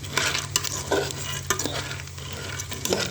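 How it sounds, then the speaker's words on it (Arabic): Macaroni frying in a pan is stirred steadily, with a continuous sizzle broken by scraping strokes at a loose, irregular rhythm, close and loud with no talking. "تقلبي فيها كده عشان ما تتحرقش منك"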